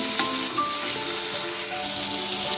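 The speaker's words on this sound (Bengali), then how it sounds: "টমেটোটাও ভেজে নিচ্ছি পেঁয়াজের সাথে।" Chopped onion and diced tomato fry in a pan with a steady, loud, continuous sizzle, close up, with no voices.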